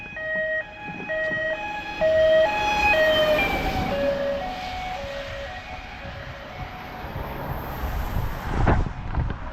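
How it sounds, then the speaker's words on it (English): An ambulance siren wails in rising and falling tones, loud at first and then fading and blurring as it passes, with wind rumble on the microphone. "Well, we got an ambulance coming."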